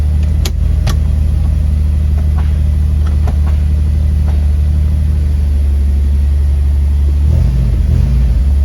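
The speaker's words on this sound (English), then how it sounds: "It fucking runs better without the mass airflow in." A Toyota Celica engine runs with its mass airflow sensor unplugged, a steady close low rumble and drone with a few brief revs, holding a constant loud level throughout.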